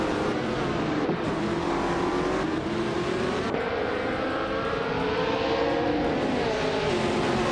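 Race cars launching off the start line at the Mastoclaw Short Loop in a racing video game, among them a classic 1966 McLaren: a loud, steady chorus of engines revving and accelerating together, with no voices.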